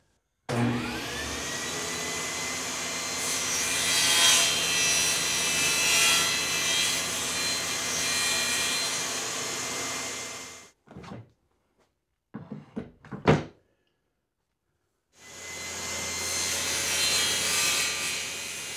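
A power saw cuts wood for a self-clamping straightedge guide, with a long loud whining cut of about ten seconds, a pause with a few short bursts, then another sustained cut, close up.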